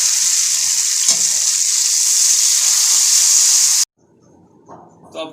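Tandoori chicken tikka sizzles loudly in a pan on the stove, a steady broadband frying hiss lasting several seconds before cutting off abruptly to near quiet with faint kitchen clatter.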